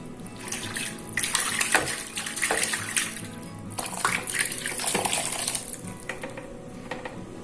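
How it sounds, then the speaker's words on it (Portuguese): Water splashes and sloshes inside a blender jar as it is rinsed, irregular swishes and clinks close by with no talk. "Eu vou dar uma lavadinha no meu liquidificador para tirar toda essa mistura que ficou aqui no fundinho"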